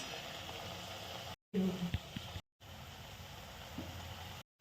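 Crispy matri deep-frying in oil over a low flame gives a faint, steady bubbling hiss with a few brief gaps and a short clatter partway through.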